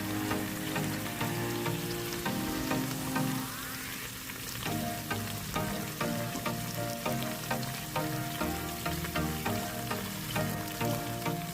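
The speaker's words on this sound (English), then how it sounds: "I'm just pointing out that I'm browning this meat." Beef neckbones browning in a pot with onion powder, giving a steady loud sizzle with crackling pops and occasional stirring scrapes, heard alone throughout.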